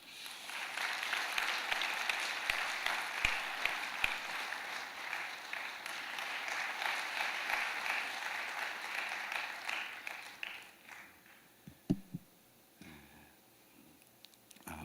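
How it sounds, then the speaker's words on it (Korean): Audience in a Korean church gathering applauds to welcome a pastor with a football team, a long, even wash of many hands clapping for about ten seconds before fading into quiet room noise with a few scattered claps and thumps. "큰 박수로 맞이해"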